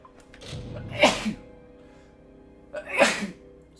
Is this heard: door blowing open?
no